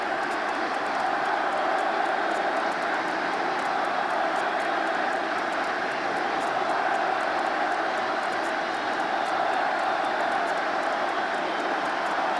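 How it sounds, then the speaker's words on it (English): Steady, loud roar of a large crowd at a 1996 Texas Rangers American League Division Series playoff game in a packed baseball stadium, sustained and unbroken throughout with no clear break. "You wonder if the crowd noise isn't a little overwhelming right now, even for Mariano Duncan."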